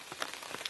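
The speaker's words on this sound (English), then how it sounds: "nice light rain" Light rain pattering on leaves in a forest at night along Bluff Creek Trail, soft, steady and faint, with scattered close drops and no voices.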